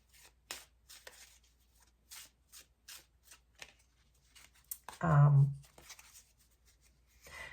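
A deck of oracle cards is shuffled close by in short, rhythmic riffles and soft slaps, with a brief voice sound breaking in partway through.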